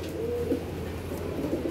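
Madrasi pigeons kept indoors in a room coo softly, low murmuring calls over a steady background hum, with no other voices.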